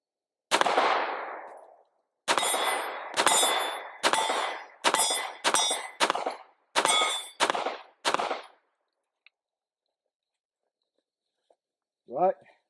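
Pistol shots ring off a steel target about 10 to 15 yards away, a string of about nine sharp cracks with metallic clangs in uneven rhythm, fired with an RFX44 green dot sight, then silence and a short faint sound at the end.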